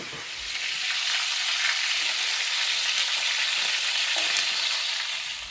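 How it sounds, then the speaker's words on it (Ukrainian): Chopped onion and carrot fry in a pan, giving a steady, close, hissing sizzle that holds evenly throughout with no talk. "цибульку кинула. морковку кинула, все вже піджарилося"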